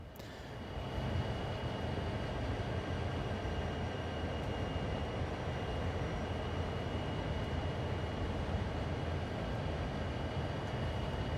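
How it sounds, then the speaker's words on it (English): Train running in the Train Sim World 2 video game on the Cane Creek Branch, a steady faint rumble with engine drone that holds evenly throughout, with no talk. "there's definitely train sound going out on the stream"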